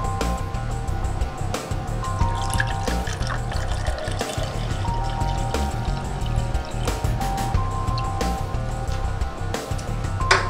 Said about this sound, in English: It's like this can of soda that I've had open for over 24 hours. Notice when I pour it.